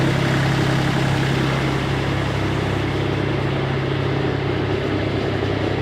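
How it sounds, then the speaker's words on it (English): A snow blower engine idles steadily outdoors while warming up, a loud, continuous low mechanical drone with an even vibrating hum that holds throughout without pauses. "blower's going, so we can just warm up for a while"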